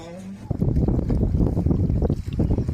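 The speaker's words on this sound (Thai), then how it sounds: "ในระหว่างนั่งเรือ" A small boat ride on the water near a riverside homestay at Ban Tha Khan Thong, with a steady rumbling wash of water and wind buffeting the microphone, close and continuous.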